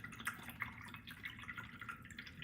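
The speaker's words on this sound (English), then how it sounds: "clean my brush on the paper first, and then it's going in the first container of water" Paintbrush rinsed in a container of water, soft sloshing and small dripping splashes in quick irregular bursts, close but faint, with no voices.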